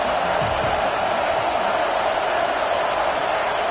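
Stadium crowd roaring steadily behind the defense on a big third down in a college football video game, a dense continuous wash of cheering with no clear breaks, loud and sustained.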